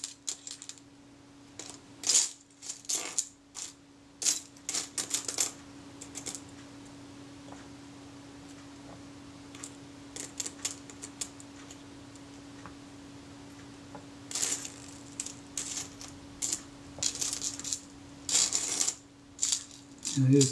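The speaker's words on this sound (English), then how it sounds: "I'm just fighting with a magnetic screwdriver here" A magnetic screwdriver driving small screws into a Kodak Retina IIIc camera, with bursts of sharp metallic ticks and clicks near the start and again toward the end, separated by a quieter stretch over a steady low hum.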